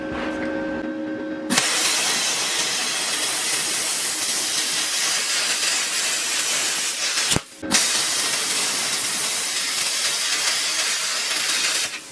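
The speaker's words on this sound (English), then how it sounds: "we're just gonna cut the whole bracket off of stuff we don't need with the plasma cutter" A plasma cutter slices a steel bracket off a Kubota G4200 tractor, giving a loud, steady rushing hiss that starts abruptly, cuts out for a split second midway, then resumes and runs on unbroken.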